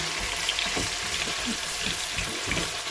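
Onions frying gently in a pan over low to medium heat, a soft continuous sizzle with faint bubbling and occasional light pops, heard alone at a moderate level.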